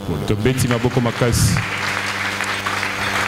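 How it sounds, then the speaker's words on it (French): A church congregation bursts into loud applause during a sermon, the clapping rising after a preacher's brief spoken line and continuing as a dense, sustained wash of hands to the end. "Acclamons très fort."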